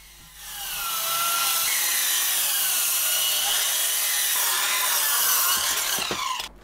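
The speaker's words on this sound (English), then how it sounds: "get the miter saw on and clamped into place" A miter saw cuts through wooden pieces for a garden table in one loud, sustained whining rip lasting several seconds, then winds down at the end.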